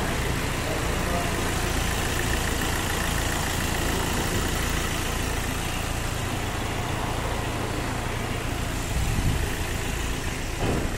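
Kia Rio engine idling steadily in a service workshop during an engine carbon cleaning, a continuous close, even mechanical hum with no talk.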